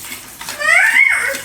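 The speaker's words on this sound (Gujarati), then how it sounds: "થોડુંક એમાં પાણી નાખશું આપણે" Water poured into a pan of simmering paneer bhaji masala, a short bright splashing pour that swells and holds for about a second, close and alone.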